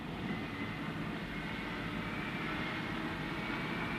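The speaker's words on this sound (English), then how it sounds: "As aircraft arrived and departed around the clock" Military aircraft engines during the Gulf War, arriving and departing around an aircraft carrier deck, make a continuous loud jet roar with steady broadband rumble and no pauses, no voices.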